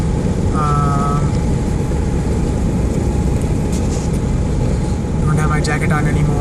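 With the windows down, a car drives along a highway slowly. Steady, loud wind and road roar fill the cabin, and a couple of brief tonal squeals rise over the noise.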